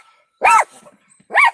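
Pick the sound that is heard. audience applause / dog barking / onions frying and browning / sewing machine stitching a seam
dog barking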